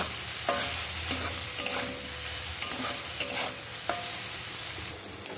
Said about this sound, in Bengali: হলুদ আর নুন দিয়ে সয়াবিনটাকে খুব ভালো করে একটু ভেজে নেব।